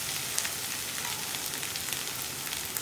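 Onions sauté with curry leaves in a pan for an egg curry, giving a steady, close, continuous sizzle and frying hiss with faint stirring and no talking.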